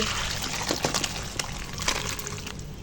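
Cooked food being poured out of a pot over a wood fire, a close, wet splashing and trickling with a few uneven clattering bursts, no speech.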